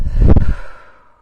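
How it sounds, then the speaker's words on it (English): A single deep exhale through the mouth, close and breathy, swells for about half a second and then fades out smoothly, heard alone during a calm grounding breathing exercise. "Taking one more deep breath in through the nose and exhale through the mouth."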